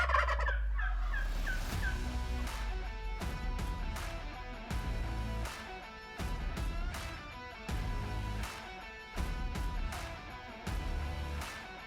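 Wild turkeys gobble around a hunter in the field, several loud close bursts of rattling gobbles repeating every second or two, with no talk.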